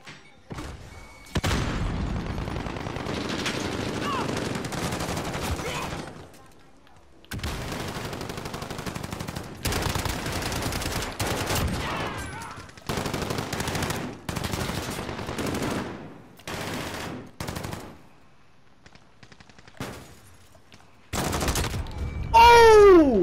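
Call of Duty Modern Warfare gunfire rattles in loud automatic bursts and single shots, separated by brief silent gaps, with occasional booms.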